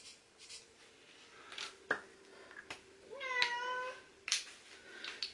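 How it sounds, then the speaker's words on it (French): A domestic cat meows and grumbles in a few short, complaining calls near a scooter tyre repair, with light handling clicks and shuffling around it. "on entend mon chat qui râle"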